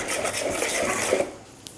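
Sorghum dosa batter with added salt is mixed by hand in a vessel, giving soft, brief wet rubbing and scraping strokes, close up and fairly quiet.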